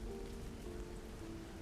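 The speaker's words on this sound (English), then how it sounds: "It's cold, it's wet, it's raining." Steady rain falls on a surface during a cold, wet, dark night, a dense even patter with a low rumble that holds throughout, with no voices.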